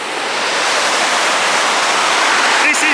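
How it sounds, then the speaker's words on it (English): A small rapid on the river in Dumfries, Scotland rushes in a loud, continuous broadband wash close by, with a brief faint voice near the end. "a little water rapid there"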